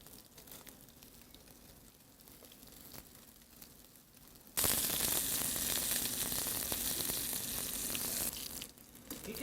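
Steady crackling sizzle of salmon steak frying on parchment in a pan, growing noticeably louder and brighter midway as the fish is laid in, then continuing.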